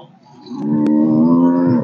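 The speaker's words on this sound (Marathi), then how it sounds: "बैल ठेवलाय बघा कसा बडीव आहे" A Khillar bull at a cattle show gives one long, deep, drawn-out moo that swells up and holds steady, close by, after a brief quieter moment at the start.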